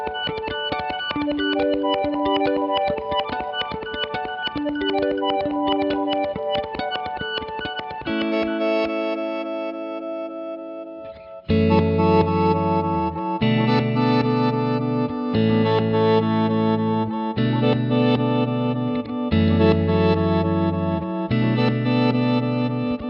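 A Chase Bliss Mood guitar pedal set to fast reverse mode gives glitchy, stuttering guitar tones, first as a rapid looping arpeggio texture, then as choppy chunky chords in a steady rhythm, loud and up close with no talking.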